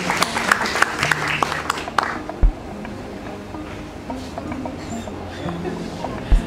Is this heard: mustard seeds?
no